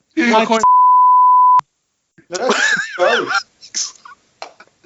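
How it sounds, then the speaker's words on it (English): A flat electronic censor bleep about a second long cuts across a man's speech, masking a name, which resumes afterward in short bursts. "definitely beeping his name out of this"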